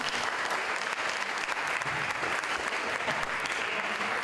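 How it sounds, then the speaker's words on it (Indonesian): Audience applause for three student works at a broadcasting event in Jember, dense steady clapping throughout, loud and continuous with no talk over it. "boleh kasih tepuk tangan untuk tiga karya teman-teman kalian."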